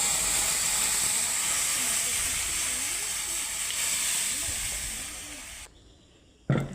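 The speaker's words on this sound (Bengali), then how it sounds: "ভালো করে ফোড়নটাকে একটু ভেজে নেব।" Ginger and spice tempering sizzles in a pan for moong dal with ash gourd, a steady close hiss that fades out near the end before a short clatter.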